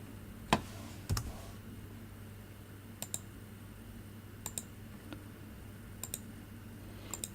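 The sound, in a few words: computer mouse clicks in accounting software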